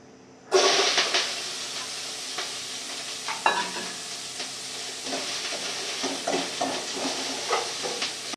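Mixed masala hits a pan of soya chunk gravy in a little oil over a low flame, giving a sudden loud sizzle that settles into steady hissing frying with occasional stirring scrapes.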